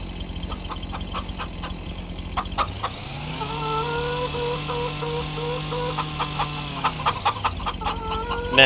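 Chickens in Farming Simulator 25 cluck in short bursts, first sparse and then rising into a busier chorus over a steady droning hum, with a louder bump right at the end.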